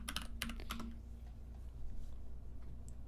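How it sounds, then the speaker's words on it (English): Keys on a computer keyboard are struck in a quick burst of close clicks, then the sound fades to a low steady hum with only a stray tap. "I'm going to type in butterfly."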